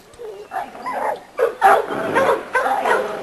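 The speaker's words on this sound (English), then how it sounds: "This is the dog we'll breed to that Rosebud bitch." A dog vocalizes nearby in a series of short barks and whiny yelps, loud and uneven, with brief pauses between bursts.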